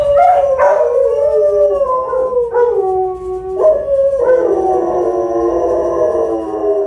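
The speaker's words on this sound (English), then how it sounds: "that is actually like howling from this one's neighbors." Several neighboring dogs howl close by, long wavering tones that rise and fall and overlap, with breaks between phrases before a fuller chorus swells near the end, loud and without speech.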